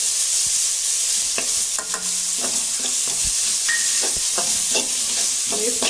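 Tomato, turmeric and red chilli go into a frying pan for dal khichdi, and a steady loud sizzle runs throughout under repeated scraping and clinking of a spoon stirring against the pan.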